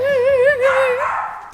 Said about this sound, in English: barking her little head off, and that usually means somebody's here